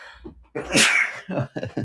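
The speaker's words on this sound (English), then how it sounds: "Is that the first time I sneezed on live stream?" A single loud, close sneeze breaks into a livestream about cryptocurrency, a sharp burst followed by a few short breathy sounds and throat noises.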